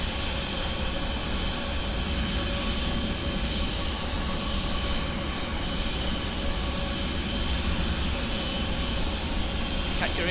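A220 airliner engines in Microsoft Flight Simulator 2024 drone on in a constant, loud jet roar with a thin whine layered on top, filling the whole stretch without pause while a voice speaks faintly underneath.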